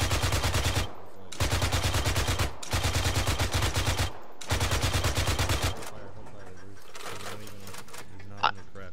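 Rapid automatic gunfire in a video game rattles out in four long sustained bursts separated by short pauses, then fades to quieter scattered shots and a single sharp crack near the end.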